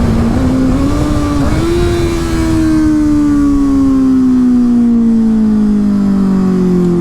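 Motorcycle engine braking in traffic, a loud, close engine note that climbs briefly as revs match, then winds steadily down in pitch as the bike slows, with constant wind rush behind it.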